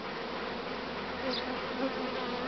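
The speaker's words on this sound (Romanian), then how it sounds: "În sfârșit s-au dezmorțit și albinele mele." A steady, dense hum of many honeybees buzzing together at the hive, continuous and even, with no voices.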